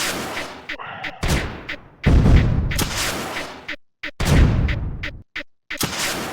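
Bursts of weapon fire from the Phantom Coil in Creeper World 2, loud punchy blasts separated by short silent gaps, repeating irregularly across the stretch.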